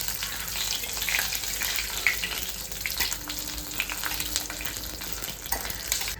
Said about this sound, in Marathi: हे असं बारीक गॅसवरती मी 10 मिनिटं हे आता तेल उकळलेलं आहे